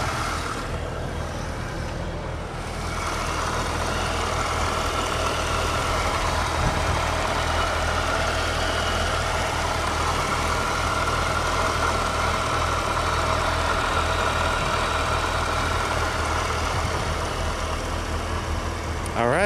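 A 2015 Chevrolet Corvette Z06 with a supercharged LT4 V8 idles steadily close by, a deep, smooth rumble that holds constant throughout with no revving.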